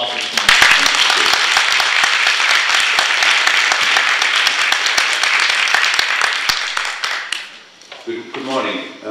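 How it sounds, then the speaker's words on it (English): Conference audience at a summit applauding to welcome a speaker, loud sustained clapping from a large crowd that fades out near the end as a voice begins talking. "Give a huge round of applause for this man."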